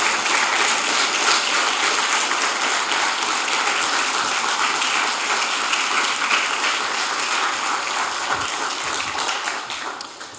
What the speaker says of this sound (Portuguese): Aplauda o Senhor Jesus bem forte.